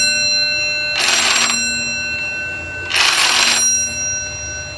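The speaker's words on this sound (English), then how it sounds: "You just take the knob and turn it counterclockwise." A Victorian twist doorbell, rung by turning its knob counterclockwise, gives two loud metallic ringing bursts about two seconds apart, each lasting roughly half a second with a lingering bright tone, against a quiet room.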